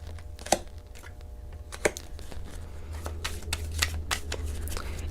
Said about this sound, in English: I feel like I get the best reading and the best messages when I shuffle